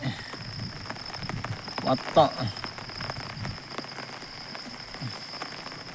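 Steady rain falling outdoors under a heavily clouded sky, a constant soft hiss of drops with a few scattered louder patters, with faint voices murmuring in the background.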